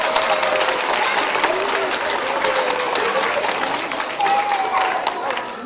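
Audience at a children's song festival concert claps in a dense, steady wash of applause filling the hall, fairly loud and continuous, easing slightly toward the end.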